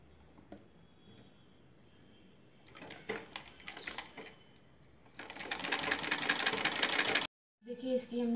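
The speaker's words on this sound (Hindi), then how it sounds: "इसे हम मशीन से इसे फोल्ड कर करके इसे हम सिलाई कर लेंगे।" A sewing machine stitches folded blouse fabric, starting with scattered clicks and short bursts under a quiet voice, then running loud and steady for a couple of seconds before stopping abruptly.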